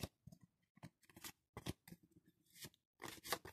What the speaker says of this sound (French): Donc j'étale les cartes et je vais en tirer 3.